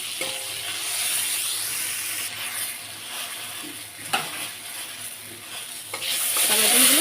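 Tomatoes frying in oil in a pan, a close hissing sizzle with occasional spatula scrapes and a clink, growing louder toward the end.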